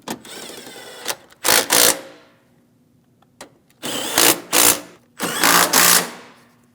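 Bolts on the battery bracket of a 2015-2020 Cadillac Escalade being snugged with a power tool, heard as three loud whirring bursts of fastener driving, the later two longer with stop-start pulses, separated by near-silence and a faint click.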